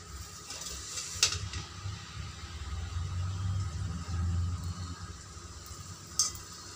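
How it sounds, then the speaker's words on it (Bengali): A ladleful of pitha batter is eased into hot oil and fries with a soft, steady sizzle and low bubbling, broken by a couple of sharp utensil clinks. No one speaks. "এবার আমি এর মধ্যে এরকম 1 হাতা ব্যাটার দিয়ে দেব, দিয়ে সেটাকে তেলের মধ্যে আস্তে আস্তে ছেড়ে দেব।"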